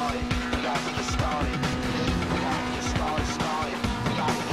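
A video game car engine roars continuously with squealing tires and revving, doing burnouts and spinning in circles in Need for Speed Most Wanted, loud and close throughout.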